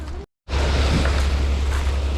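Sea waves and steady wind at the shore in Balayan on a rough, choppy day, a broad continuous wash with a brief dropout near the start, loud and close with no voices.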